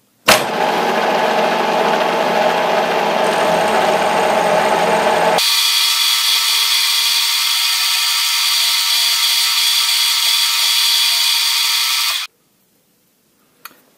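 A metal part is being machined in a finishing pass, giving a loud, steady cutting whine that runs without a break for about twelve seconds, changes tone partway through, then stops abruptly.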